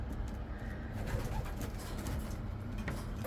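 Racing pigeons back home at the loft after a race, cooing softly and steadily against a low, continuous outdoor background.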